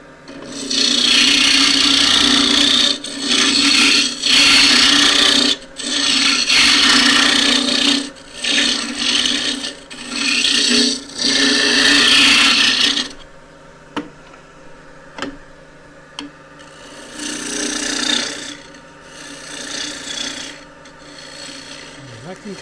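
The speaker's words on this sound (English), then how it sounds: "Using the continental gouge." A continental gouge shapes a stool part of wood spinning on a lathe, giving a loud, close rasping scrape in repeated passes of a few seconds each, with short pauses and a quieter tail of lighter cuts.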